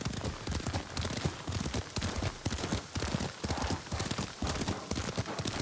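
A horse gallops in Ghost of Tsushima, its hooves pounding in a fast, steady rhythm of close, loud thuds over a constant rush of wind and game ambience.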